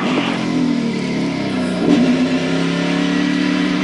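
A NASCAR Nationwide stock car at Daytona, car 18, comes off the track and drops to pit road speed, its engine holding a steady, loud mid-pitched drone with a brief surge partway through.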